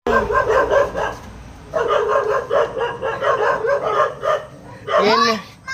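Pet dogs at home, near their sleeping area, bark and yelp in repeated bursts, loud and close, with a brief gap midway and a higher whining yelp near the end, alongside a person speaking.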